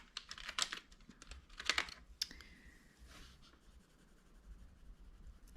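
Colored pencils scratching across paper in short bursts of strokes with pauses between, close and quiet, no talking.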